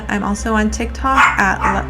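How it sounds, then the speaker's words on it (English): A pet dog barks and yips indoors in short, close bursts, mixed in with someone talking over it. "show you how cute my dog is so that you don't get annoyed with her barking"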